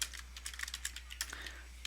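Rapid, steady typing on a computer keyboard, close and clear, with quick clicking keystrokes over a low constant hum and no talk.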